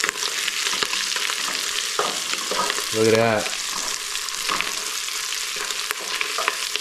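Jalapeños and bok choy frying in a pan, a steady sizzle with stirring scrapes, loud and close, while a voice speaks briefly over it.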